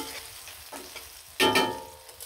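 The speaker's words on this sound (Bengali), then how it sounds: "পেঁয়াজ কুচি কুচি দিয়ে দিলাম। দিয়ে ভালো করে নাড়াচাড়া দিয়ে দিলাম।" Chopped onions stirred into fried river fish (meni fish) in a pan, a brief sizzle with a louder burst of scraping and frying partway through, close and alone.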